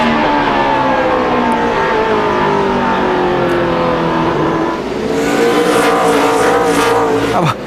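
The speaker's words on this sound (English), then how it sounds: "Rusty drove that car in hard into turn 3, didn't he?" NASCAR stock cars racing hard into a turn at Martinsville in the 2004 Subway 500, a loud continuous roar of engines with shifting pitches as several cars pass close, ending in a rising rev.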